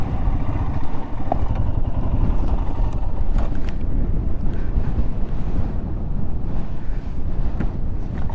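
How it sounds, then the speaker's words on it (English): Strong wind buffets the microphone at a high, exposed desert lookout, producing a continuous loud, low rumbling roar with gusty fluctuations and no speech. "It is so windy up here."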